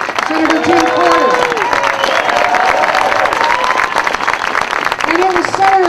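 Sustained crowd applause and cheering at an Idaho fairness rally, loud and steady throughout, with voices calling out over the clapping.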